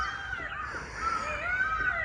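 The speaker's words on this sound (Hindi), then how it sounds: "मोर तो यहाँ बोल रहा है।" A peacock calls loudly in a Dehradun forest, a sustained harsh, wailing cry lasting about two seconds, moderately close, with no talking.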